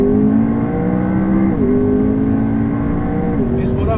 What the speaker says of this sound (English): So when you hear that bop bop, that is traction control kicking in